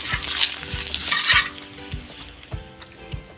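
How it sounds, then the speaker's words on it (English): Cooking oil crackles and sizzles loudly in a hot pan, close up, with a bright continuous hiss that settles slightly, punctuated by soft knocks and clinks of the pan. "I'm going to add my cooking oil in my hot pan."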